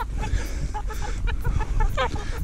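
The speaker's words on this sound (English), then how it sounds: "feeding the chooks" Backyard chickens cluck and chatter continuously while being fed, several birds close by, over a steady rush of strong wind.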